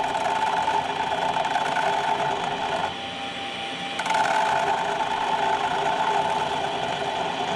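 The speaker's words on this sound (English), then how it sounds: "So mini lathe, put the Dremel, and we don't want to get too close to the actual ring itself." A Dremel rotary tool mounted on a mini lathe grinds a titanium ring at low speed, giving a steady, close whine that dips briefly in the middle before resuming at full strength.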